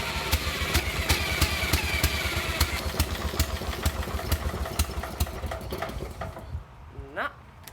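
A Victor 11-497 stationary engine being cold-started, with sharp rhythmic cranking or firing pulses close by over a steady low mechanical rumble, fading out near the end into a brief squeal.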